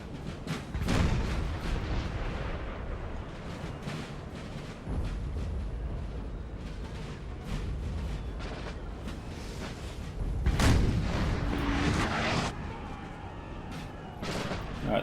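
Batteries of 6-pounder cannons fire in a Napoleon Total War battle, sharp and distant shots rippling out in irregular bursts with a few louder close booms over a rumbling battlefield din.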